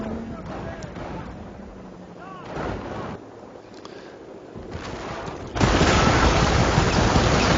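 Machine gun fire and a quad mount in Company of Heroes, with scattered shots and muffled bursts under a game soundscape, then a dense roar of sustained firing in the last two seconds.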